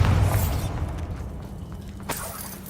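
A Bombarda blasting spell goes off in Hogwarts Legacy as a heavy, rumbling boom that decays over a couple of seconds, followed by a sharp crackling burst near the end.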